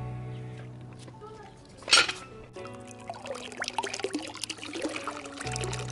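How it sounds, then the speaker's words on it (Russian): Water starts running from a newly replaced 15 mm outdoor ball valve tap, a soft trickle and splash after a sharp metallic clank, with quiet handling noises, fairly close and low in level. "Вода пошла."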